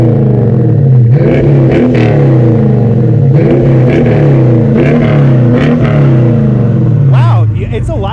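A Dodge revs hard through a 5-inch exhaust with Cherry Bomb Extreme mufflers, a loud, close, throaty engine note climbing and falling in several repeated pulls before settling.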